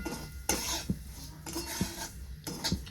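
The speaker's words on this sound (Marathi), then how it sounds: "त्या तुपावर मी काजू बदाम टाकून घेतले आणि त्याच्यासोबत रवा पण भाजून घेते" Semolina (rava) roasting in ghee with cashews and almonds for potato shira, stirred with a spoon that scrapes the pan in four distinct strokes over a soft sizzle, close and alone.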